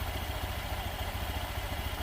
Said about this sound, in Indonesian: Dan ini suara CVT seperti ini.